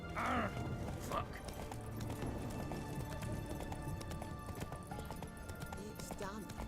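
Roach the horse galloping in The Witcher 3, a steady rapid clip-clop of hooves running under game music and ambience, with a brief whinny-like sound near the start.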